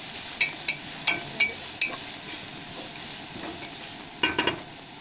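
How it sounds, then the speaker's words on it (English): Onions sauteing in oil in a pan at a campsite, a steady close sizzle broken by several sharp clacks of a utensil stirring and scraping, with no talking. "gonna throw in our onions with our oil. We're just gonna saute until fragrant."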